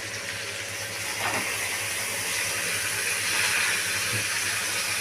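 Sliced ridge gourd goes into a pan of potatoes already frying red, and a continuous close hiss of oil follows, with a few faint clinks near the middle and end.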